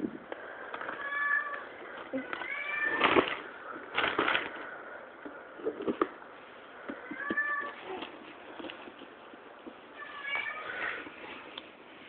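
A cat meows repeatedly indoors, several drawn-out, rising meows spaced across the stretch, fairly close, with muffled human voices faintly in the background.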